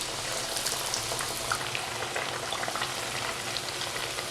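Thin slices of potato bajji fry in hot oil over medium flame, giving a continuous, even crackling sizzle with no voices over it.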